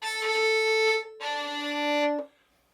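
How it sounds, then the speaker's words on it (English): A violin plays two notes bowed sul ponticello, near the bridge, with a thin, edgy, slightly scratchy tone, then the sound fades quickly into quiet. "this is called sul ponticello for something we need very scratchy"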